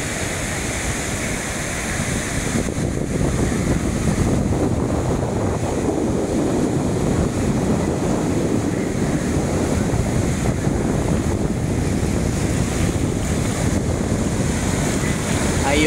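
Ocean waves at Praia dos Ingleses beach in Florianópolis on a sunny afternoon, a continuous loud wash of surf mixed with buffeting wind on the microphone, no clear talk.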